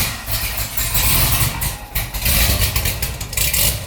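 Supercharged Corvette engine running just after startup with large fuel injectors fitted, a loud rough idle with uneven rumbling and sputtering, close up.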